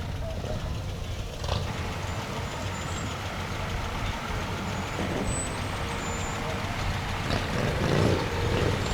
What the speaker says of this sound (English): Got some antique cars coming up our way.